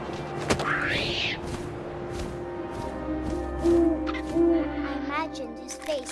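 In the video game What Remains of Edith Finch, an owl gives a few soft, low hoots partway through over a background of wind and game ambience, with some faint narration-like sound.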